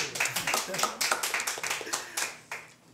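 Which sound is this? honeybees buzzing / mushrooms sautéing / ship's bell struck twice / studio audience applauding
studio audience applauding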